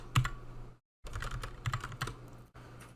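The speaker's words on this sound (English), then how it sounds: "when I have it selected, I can just start typing." Someone types on a computer keyboard while editing text in Microsoft Word: quick bursts of close, crisp key clicks, a brief pause, then a longer run of irregular taps.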